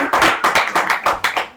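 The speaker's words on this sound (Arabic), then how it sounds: "فنسمع تصفيق" An audience claps at a comedic poetry gathering, with a near, steady run of about eight rhythmic clapping bursts and no talking over them.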